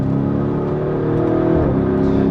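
Lamborghini Urus SUV, sharing its engine with the Audi RS6 C7, revs loud and close in a continuous throaty drone that swells slightly midway, with no voices over it.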